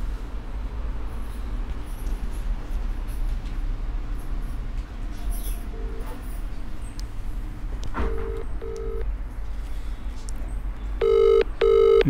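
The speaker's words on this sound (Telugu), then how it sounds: "ఫోన్ చేస్తున్నాను ఆయనకి." A phone rings on an outgoing call, a few short ringback tones arriving near the end after a stretch of quiet room noise, close and clear.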